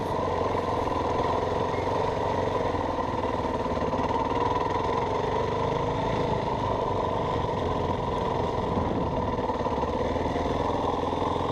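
A dirt bike engine drones steadily throughout a ride, with a constant, even roar and little change in pitch or loudness.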